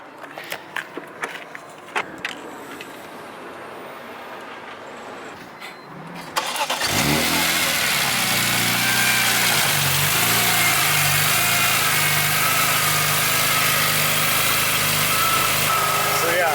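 A car with a swapped 1JZ engine and a full aftermarket exhaust cranks over and fires up after quiet talk, then settles into a loud, steady, slightly choppy idle that runs on close by.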